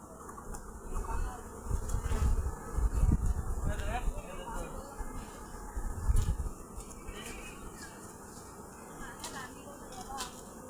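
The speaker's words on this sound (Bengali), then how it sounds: "শুধু মধুর মাছি।" A low, continuous buzzing of honey bees from a honey-farming garden in Fulbari village, Pabna, Bangladesh, in the background, with a person talking over it.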